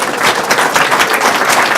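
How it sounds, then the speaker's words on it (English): Audience applause at a Libertarian Party state convention in Florida, with dense, steady clapping from a large room sustained at full volume throughout. "Give yourselves a round of applause."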